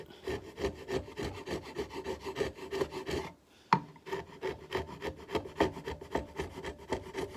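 A sharp chisel pares leftover wood from the corner of a mortise, making rhythmic scraping and rasping strokes up close, with a brief pause and one sharp tap partway through.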